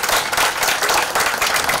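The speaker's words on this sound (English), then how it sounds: "I think she deserves a round of applause" Loud, dense audience applause at a Nigerian state building commissioning ceremony, a close, continuous burst of many hands clapping with no talk over it.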